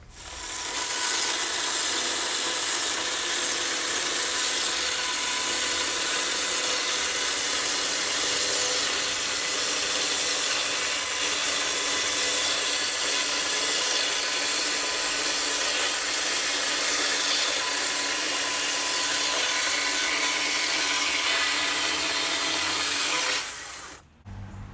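A chainsaw cuts mini bear shapes from a 2x4 board as one loud, steady, continuous drone that runs nearly the whole time and then stops abruptly at the end.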